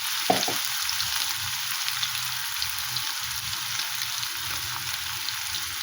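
Potatoes and onions fry in oil with a continuous close crackling sizzle, steady and even throughout, with no voices over it.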